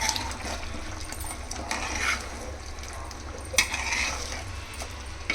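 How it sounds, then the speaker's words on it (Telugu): A spoon scrapes and clinks steadily through chicken kurma in a pot, with a soft wet, sizzling texture under the stirring and one sharper knock partway through. "ఒకసారి మొత్తం ఒకసారి కలుపుకుందాం"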